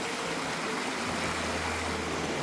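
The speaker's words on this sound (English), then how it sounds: "this is Wentworth Falls. Just a magic little creek system." A creek flowing at Wentworth Falls in the Blue Mountains, a constant broad rush of running water with a faint low hum beneath, steady and enveloping with no voices.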